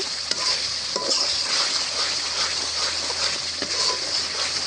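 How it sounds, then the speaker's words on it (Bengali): Duck meat sizzling in fried spice paste over a clay stove, a steady loud hiss and crackle with occasional stirring scrapes, close and continuous. "মশলাগুলো কষানি হয়ে গেছে তো এখন আমি মাংসগুলো দিয়ে দিব"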